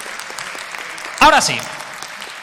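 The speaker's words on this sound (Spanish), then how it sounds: "pedimos un fuerte aplauso para Blastoise." Soft, steady audience applause at a science show for families fills the background, with a short spoken phrase rising over it partway through.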